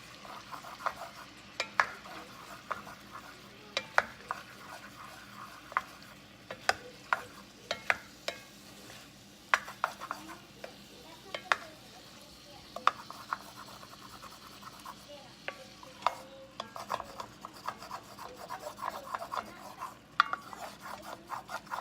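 A utensil scrapes and stirs seasoned vegetables in a pan, making repeated sharp scratches and clacks over a soft sizzle, close and fairly quiet.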